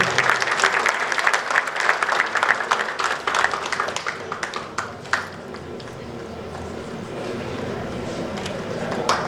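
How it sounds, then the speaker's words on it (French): Audience applause fills a hall at an Indonesian independence anniversary celebration, a dense burst of clapping that swells early, then thins and fades toward a steadier, softer patter. "Vos applaudissements, s'il vous plaît."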